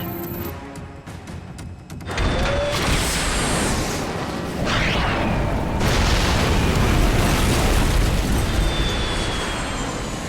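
A loud, sustained movie explosion as a military target is destroyed in a monster action film, with a sudden roaring blast that rumbles on heavily for several seconds, dense and close.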